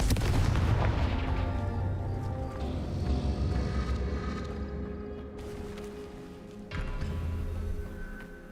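Confringo fire spell in Hogwarts Legacy bursts with a booming explosive blast followed by a fading rumble, then a second heavier boom near the end, with no talk.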